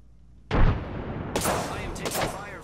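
Gunfire in the battle royale game Apex Legends, a loud sudden shot followed by a burst of several close cracks with ringing tails.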